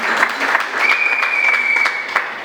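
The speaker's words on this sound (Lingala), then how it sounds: "On peut applaudir pour les parents de M. Osombia Lingolé" Wedding guests clap in a dense burst of applause with rapid, overlapping hand claps, close and loud, while a sustained high tone rings through the middle.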